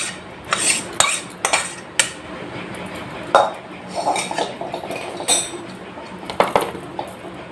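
Metal utensils clink and scrape against a dish while chicken kosha is served, with sharp, irregular clinks and short scrapes up close and no talk.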